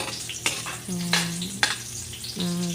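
Squash and hotdog frying in splattering oil, a continuous close sizzle broken by a few sharp stirring clanks and short whistling tones from the pan.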